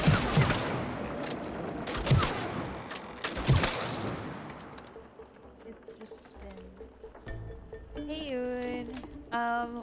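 Gunfire in the co-op video game It Takes Two, with dense, rapid bursts of shots in the first few seconds, then sparser game effects and musical tones while players talk.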